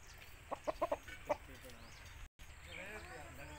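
An Aseel hen, a purebred Mushki female, gives a series of short clucks in quick succession near the start, then one more after a pause, over a noisy room background.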